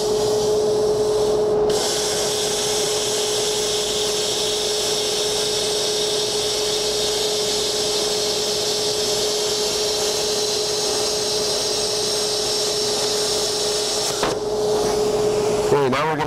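A Hypertherm Powermax30 XP plasma cutter slices through stainless steel at the CONEXPO 2014 trade show, a loud, steady hiss with a constant whining tone that starts abruptly, runs about twelve seconds and cuts off sharply.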